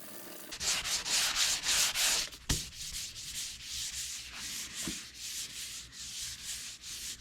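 Rhythmic sanding scrapes back and forth across a damaged fiberglass and gel coat boat hull, loud strokes at first then a steadier, lighter rubbing pattern, close up.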